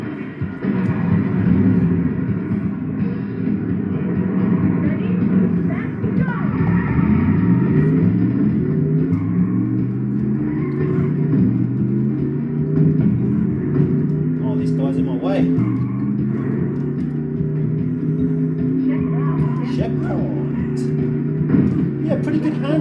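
Engine of the Italia sports car in the Cruis'n USA arcade racer, a steady loud drone that rises and falls with gear shifts and speed changes, with a voice talking over it.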